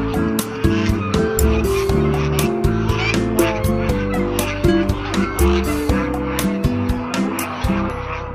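Geese honking loudly in Taiwan, a dense flock giving repeated overlapping honks close by, continuous and noisy with other clamor mixed in.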